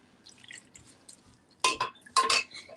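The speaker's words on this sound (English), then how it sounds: "So first I'm going to pour the water a little fast because it's the beginning." Water poured fairly quickly into a pot while making saag with mustard greens, heard as two bursts of splashing, trickling liquid after a quieter stretch of faint kitchen drips and clinks.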